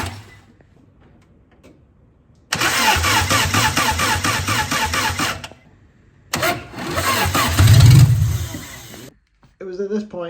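A Datsun 620 pickup with a freshly rebuilt carburettor cranking in two loud, rhythmic bursts separated by quiet, the second surging as the engine nearly catches before cutting out.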